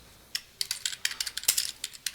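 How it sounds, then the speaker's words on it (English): Rapid, uneven keystrokes on a computer keyboard while entering notes in fleet maintenance software, a quick close run of light clicks with short pauses and no talking. "You can keep typing."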